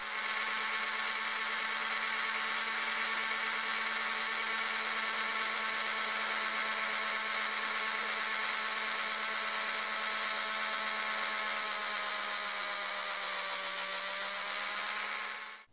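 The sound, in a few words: mini drill with 0.5 mm bit drilling wooden fence posts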